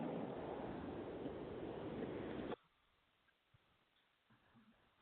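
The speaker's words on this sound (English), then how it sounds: "I heard the ocean." Ocean waves over a Skype call, a loud band-limited wash of surf-like noise that cuts off abruptly halfway, leaving near silence with faint clicks.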